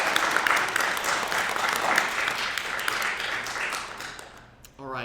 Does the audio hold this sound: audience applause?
yes